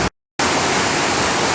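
A Las Vegas resort waterfall rushes as a steady, loud wash of falling water after a brief cut to silence.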